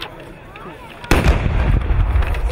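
Artillery in a 17th-century battle reenactment fires one deep, loud cannon blast about a second in, and the heavy boom rolls on as a rumbling roar to the end of the clip.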